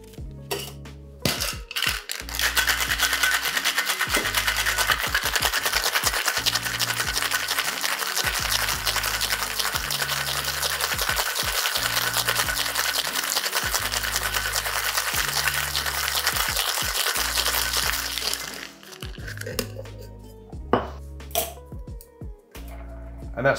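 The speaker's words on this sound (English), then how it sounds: "Plenty of ice into your shaker and shake for 12 to 15 seconds." Ice rattles hard inside a cocktail shaker in fast, rhythmic shaking for about fifteen seconds, close and loud, followed by a few clinks.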